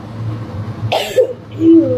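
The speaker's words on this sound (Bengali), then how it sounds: "কাশি উঠে আসলো কেন?" A single sharp cough bursts out in a home kitchen with a chimney exhaust fan running, standing out briefly over a low, steady hum.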